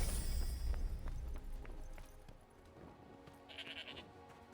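Sheep bleat in the video game Forspoken, a few short calls close by over a soft ambient bed with light footsteps, then a brief higher chime near the end.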